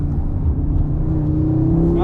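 A 2022 Audi RS3 with 400 hp, all-wheel drive and a torque splitter drifts in oversteer, its engine droning steadily and loudly throughout, with a brief rising squeal of tires near the end and a voice talking over it.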